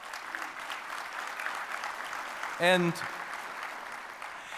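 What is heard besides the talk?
audience applause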